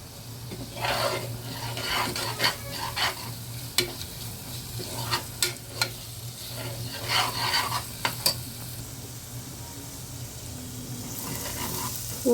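Masala with coriander powder fries in oil over a medium flame, a low steady sizzle broken by intermittent scraping stirs and occasional taps against the pan.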